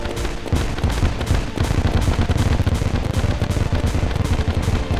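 Rainbow Party Cannon weapon firing in Terraria Calamity, a dense run of loud, rapid blasts and crackling bursts that repeat steadily throughout with no talk.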